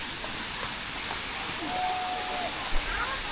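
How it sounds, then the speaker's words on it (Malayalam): Steady broadband rush of water at the Areeckal waterfall in Piravom, Kochi, during rain, a continuous loud roar with a faint thin whistle-like tone partway through. "പിന്നെ വെള്ളച്ചാട്ടത്തിൽ നല്ല സൗണ്ടൊക്കെ വരും."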